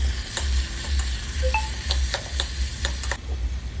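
Carrots, peas, tomato, onion and potato fry with asafoetida in hot oil while being stirred, a steady close sizzle under rhythmic scraping strokes of a spoon against the pan, with no voices.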